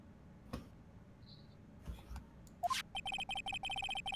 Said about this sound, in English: Whoa, Emma's phone's going off.